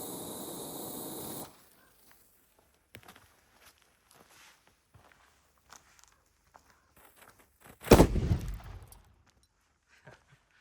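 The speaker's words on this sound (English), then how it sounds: "those were completely different firecrackers" A single loud salute firecracker bang bursts out after long near-silence, followed by a short crackling tail; faint scattered clicks and taps come before it.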